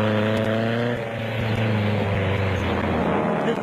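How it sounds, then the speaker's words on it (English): Ex-WWII Nissan Harvard aircraft droning overhead in an aerial display, a steady loud propeller engine roar with a rough buzzing pitch that shifts slightly as the planes pass. "a spectacular aerial display by the ex-World War II Nissan Harvards"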